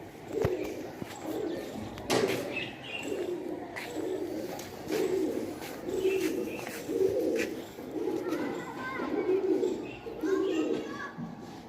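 Indian Lakha pigeons coo on a rooftop in a steady, repeated rhythm of low throaty calls, with faint background chatter and occasional clicks around them.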